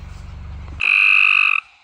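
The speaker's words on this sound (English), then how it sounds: "There's gray tree frogs calling like crazy down here." Gray tree frogs call at night beside a creek, a loud sustained trill rising suddenly after low rumbling and continuing steadily for most of a second before cutting off, nearby and dominant.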